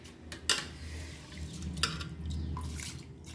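Soaked rice, left to soak overnight, tipped into a pot of boiling water, giving a couple of sharp splashy clatters over a steady low bubbling rumble, close and moderately loud.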